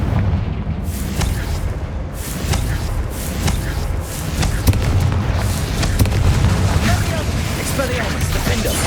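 Repeated Confringo fire spell blasts in Hogwarts Legacy combat, a steady run of booming magical explosions mixed with game effects and spoken voices throughout.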